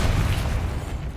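A Bombarda spell detonates in Hogwarts Legacy, one short deep boom with a rumbling low-end burst that quickly fades, heard alone and close.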